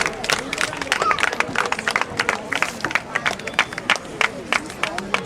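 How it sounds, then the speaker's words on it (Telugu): An audience claps at a Christmas public meeting, a steady ripple of many hands that continues for several seconds with a murmur of crowd noise underneath. "చప్పట్లు కొట్టండి."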